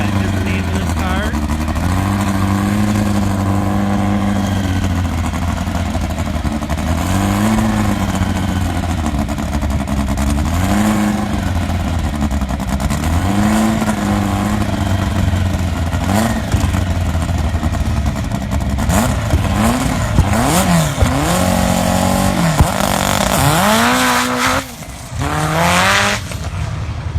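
A loud drag racing car engine roars and revs continuously down the track, pitch rising and falling as it accelerates, with an announcer's voice heard faintly over the noise.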